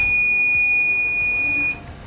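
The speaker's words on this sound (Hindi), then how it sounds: "तो ये देखिए बीप का साउंड आने लगा।" A homemade solar-powered continuity tester gives a continuous high-pitched electronic beep, steady and clear for under two seconds before cutting off, with no talk over it.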